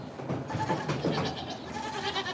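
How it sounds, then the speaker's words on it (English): Goats bleat in an animal pen, a steady busy mix of calls filling the background with no voices heard. "Goats like Blondie can actually still fit in here."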